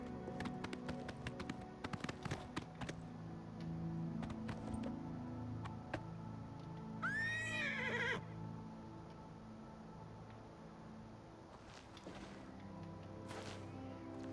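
In the video game Oblivion Remastered, hooves clop in a steady run, then a horse lets out a clear, high neigh before the hoofbeats continue more faintly.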